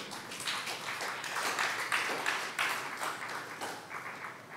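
Congregation clapping during a praise and fasting church service, a fairly even spread of many hands applauding at moderate loudness that rises and eases over several seconds, with no speech on top.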